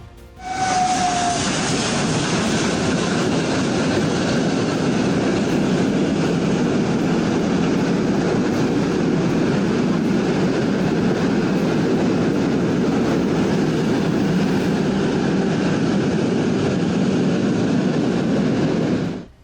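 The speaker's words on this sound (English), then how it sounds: "After the steam locomotive passed through the tunnel, drivers had to continue waiting until the smoke cleared and the air became clean." A steam locomotive train rumbling through a tunnel, a loud continuous roar with heavy low rumble and rattling that holds steady from start to end, with a brief high whistle-like tone near the beginning.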